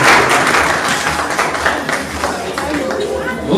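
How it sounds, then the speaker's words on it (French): A crowd at a school integration ceremony claps loudly and steadily, with chatter and voices mixed through the applause. "On applaudit très fort."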